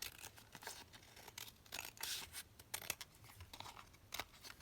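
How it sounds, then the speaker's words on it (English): Scissors snip and slice through a printed book page, trimming across the bottom edge and then down the side in a run of quick, close crisp cuts with no talking. "trim it across at the bottom and then just down the side."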